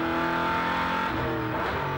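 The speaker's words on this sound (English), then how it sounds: "Procession of V8s like a freight train through here." A line of NZV8 touring cars, including a Ford Falcon XR8, roars past at Ruapuna race track in 2007, loud close V8 engine drones overlapping in a continuous procession with rising and falling pitch.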